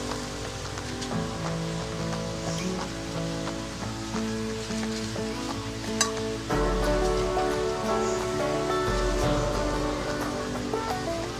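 Batter-coated saba banana fritters (maruya) sizzle steadily in hot oil, a dense, constant crackle and hiss over background music, with one sharp pop midway.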